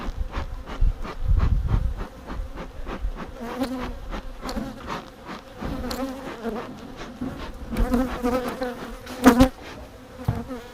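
Honeybees swarm and buzz around an opened home hive in a dense, continuous drone, with individual bees whining past close to the listener and occasional louder passes. Nobody speaks.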